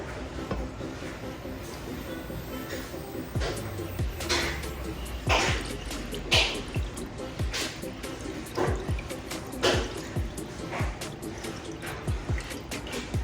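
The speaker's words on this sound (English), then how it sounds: "we are going to pour this Jello mixture over on top of it" Liquid strawberry Jello mixture pours and splashes over a layer in a dish in irregular bursts, with wet drips and trickles over a steady background hum, close by.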